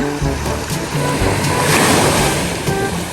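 Gentle ocean waves wash onto a sandy beach, a steady rushing surf that swells slightly midway, close and fairly loud, with no voices.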